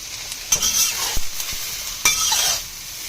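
Shiitake mushrooms stirred in a hot wok, with two bursts of a utensil scraping the pan over a steady close sizzle and a few light clicks, with no talking.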